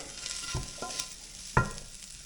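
Bacon lardons sizzling quietly in a frying pan, a faint steady crackle with a few soft clinks and scrapes of stirring, no voices.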